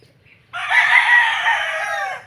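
A rooster crows loudly in one long, drawn-out call with chickens clucking faintly before it.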